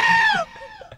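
A goat gives one drawn-out, wavering bleat that slides downward before breaking off, followed by a short stretch of faint, scattered background noises.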